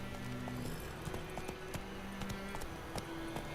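Roach the horse in The Witcher 3 galloping, a steady run of hoofbeat clip-clops at moderate volume over a faint ambient bed, with occasional brighter clicks.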